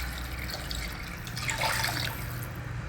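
Water poured from a vessel into washed raw Sona Masuri rice in a pot, a soft continuous splashing and trickle heard up close with no talking.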